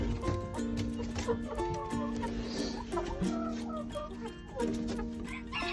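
Backyard chickens clucking near their roosting spots, a steady close chorus of layered clucks and calls lasting throughout.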